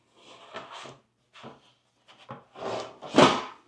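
An IKEA Aurdal drawer front is slid into place, making short bursts of wooden rubbing and scraping in several separate pushes that end in a louder knock, close by and with no talk.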